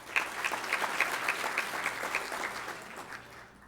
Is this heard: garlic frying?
no